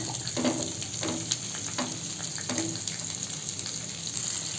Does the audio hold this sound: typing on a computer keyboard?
no